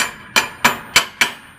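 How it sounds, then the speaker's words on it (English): A pointed slag hammer chips arc-welding slag off a weld with four sharp metallic taps at an even pace, close and crisp, no talking. "tap that slag and then it busts off"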